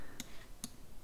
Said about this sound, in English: I'm gonna type in yes.